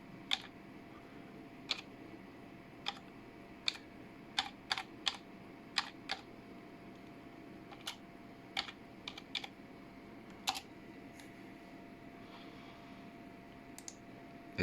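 Quiet typing on a computer keyboard: scattered, irregular key clicks with uneven pauses between them, close by and alone.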